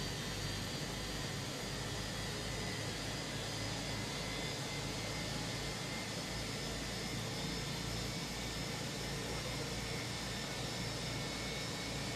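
Jet engines of a Fenix A321 airliner spool up in Microsoft Flight Simulator 2024, producing a constant loud roar with a steady high whine layered on a deep rumble, unbroken and without any talk.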